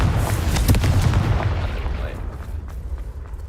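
A Confringo fire spell blasts in the Hogwarts Legacy video game, a loud rumbling explosion with sharp crackling bursts that fades into a lingering low roar.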